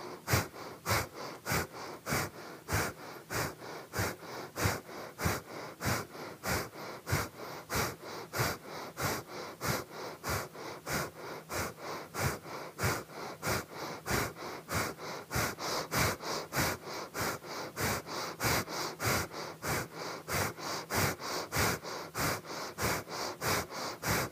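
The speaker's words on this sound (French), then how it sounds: "Puis des respirations libres." Free breathing during a breathing exercise: quick, even breaths in and out repeat in a steady rhythm for the whole stretch, close and alone, with no talking.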